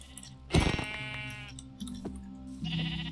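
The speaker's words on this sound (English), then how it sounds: "And I can't seem to hit this sheep." A sheep in the video game Minecraft gives a short, sharp bleat, then a couple of fainter bleats follow within a few seconds, heard alone at low volume.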